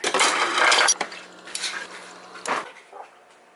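Dishes clink and clatter in a kitchen as a glass of water is fetched, a loud close rattle of glassware and cutlery at the start, then lighter knocks and a final clink.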